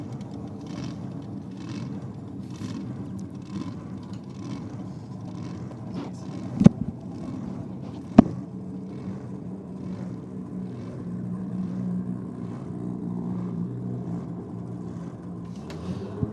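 A supercharged small-block V8 in a Chevy Nova idles at a drag-racing event, a steady, lumpy low rumble with a couple of sharp pops partway through, heard without talk.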